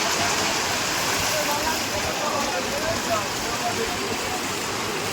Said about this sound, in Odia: ମାନେ ଦେଖିପାରୁଛେ ବହୁତ ବର୍ଷା ହଉଛି।